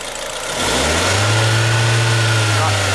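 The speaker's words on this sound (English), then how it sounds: "Go ahead and rev it a little bit." Car engine revved during a mass air flow sensor check, rising from idle into a loud, sustained higher-pitched rev that holds close by.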